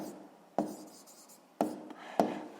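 A pen or pencil writes an answer to a sixth-grade maths exercise on paper, giving three distinct scratchy taps and strokes between quiet rustling, close and fairly soft.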